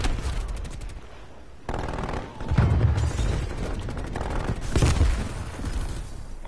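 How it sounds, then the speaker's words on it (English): Shotgun fire in a video game rings out as loud, sharp gunshot blasts with heavy booms, in several separate bursts over constant battle noise. "Here's my shotgun."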